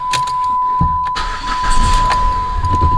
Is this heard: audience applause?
no